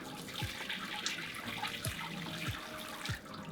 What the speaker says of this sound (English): you can just tip this straight over the top of your grain bed